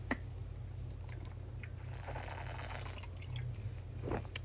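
A person drinking water during a break, with quiet close-up sips, wet mouth sounds and swallows spread over a few seconds, and no talking.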